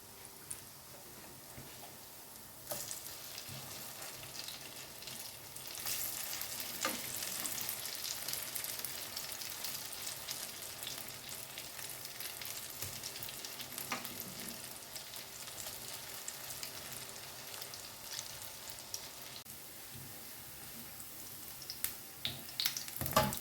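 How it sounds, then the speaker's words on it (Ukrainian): Food sizzles and spatters in a hot pan for a long stretch, with occasional scrapes and clicks from stirring or turning, close up and steady. "І ось так ще смажиться до готовності."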